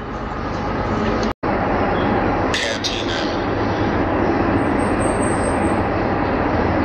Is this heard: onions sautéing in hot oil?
no